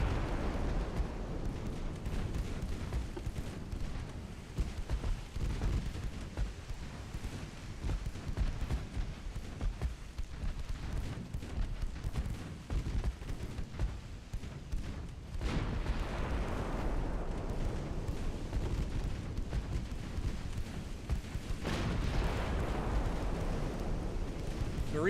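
Naval gunfire striking the broadside of a heavy cruiser in a naval warfare video game, a sustained rumble of heavy artillery blasts and explosions with repeated booming impacts over a constant low roar.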